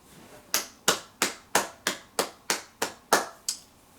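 Ten sharp, evenly spaced claps ring out one after another, each with a short decaying tail, a single person applauding alone in a quiet room.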